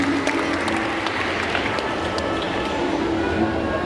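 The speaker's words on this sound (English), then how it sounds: "Let us all give them a round of applause" An audience applauds at a senior high school graduation ceremony, a sustained wash of clapping from a large crowd lasting several seconds.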